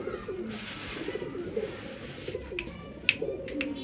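Old line pigeons coo close by in soft, throaty repeated calls over a faint hiss, with a few sharp clicks and rustles near the end.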